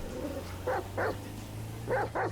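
A dog in GTA 5 barking in four short, close, fairly loud woofs, two spaced apart and then a quick pair, over a low steady hum.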